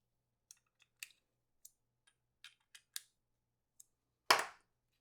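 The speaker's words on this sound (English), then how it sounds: "Now I'm just going to tighten these screws in." Screws are tightened on attachments for a P365 X-Macro pistol: a series of faint, sparse metallic clicks and ticks in near silence, ending with one louder, sharper clack.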